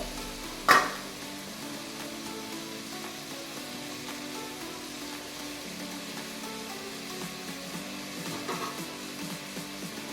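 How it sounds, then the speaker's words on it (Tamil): Ginger, garlic, coriander leaves and mint being sautéed in a pot, a steady low sizzle and stir with one sharp clatter near the start and a softer knock later, no voices. "போட்டு நல்லா வதக்கிக்கோங்க"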